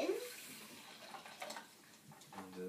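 Water is poured from a container into a glass during a home science experiment, giving a soft splashing, trickling sound with a rising fill tone near the end.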